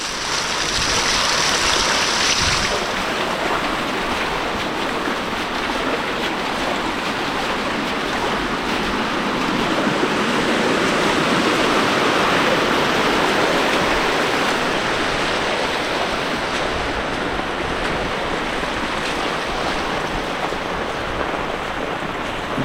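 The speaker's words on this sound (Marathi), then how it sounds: "इकडे आहे ना छोटासा धबधबा आहे" A small waterfall pours during heavy monsoon rain in a Konkan village, a loud, continuous rushing roar of falling water that stays steady and near throughout, with no talking.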